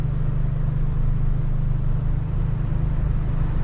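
An Abarth 595 Turismo small turbo hatchback engine gives a steady, low rumble, holding at a constant idle-like drone, close and even throughout with no talking.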